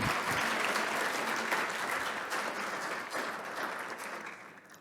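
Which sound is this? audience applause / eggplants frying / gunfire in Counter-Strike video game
audience applause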